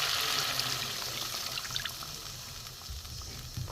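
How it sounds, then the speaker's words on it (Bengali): Milk pours into a simmering egg curry in a pan of hot oil, a steady close liquid trickle and faint sizzle that gradually eases off. "এবার আমি এতে দুধ দিয়ে দেবো"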